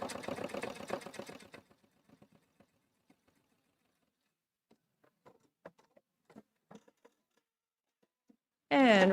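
Brief burst of sewing machine stitching through vinyl and pleather at the start, followed by near silence with scattered soft clicks and taps, then a short loud mechanical whir at the end.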